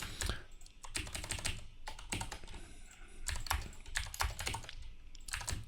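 Rapid typing on a computer keyboard, close and steady in bursts of clustered key clicks with brief pauses between, no voices.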